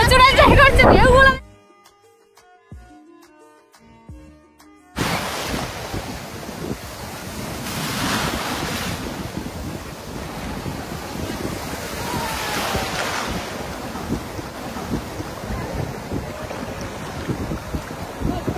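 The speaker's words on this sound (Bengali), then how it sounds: "এখানে কিন্তু বিশাল বড় বড় ঢেউ হচ্ছে" Sea waves roll and break at Bakkhali beach, a steady broadband surf roar with wind buffeting the microphone and a crowd of beachgoers around; a brief burst of music and a quieter gap come before the surf.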